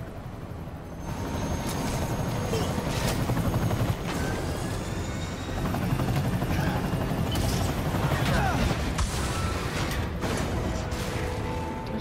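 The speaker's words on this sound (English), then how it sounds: "Strong helicopter." A helicopter's steady rotor roar in the video game Marvel's Spider-Man fills the space, joined by bursts of gunfire and explosions in a busy, loud action scene.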